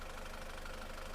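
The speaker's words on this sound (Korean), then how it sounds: "엔진 소리가 굉장히 좋아졌어요." A SsangYong Korando Sports diesel engine idling after water pump and damper pulley replacement, a steady, even rumble with a faint rhythmic tick, close and continuous with no voices.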